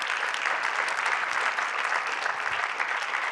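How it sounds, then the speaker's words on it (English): An audience applauds panelists at an interfaith Muslim-Jewish-Christian event in Los Angeles. Brief, steady clapping at moderate loudness runs throughout, with no voices over it. "Please, a round of applause for our amazing panelists."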